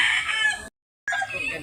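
Fighting rooster crowing close and loud, two bursts split by a short silent gap.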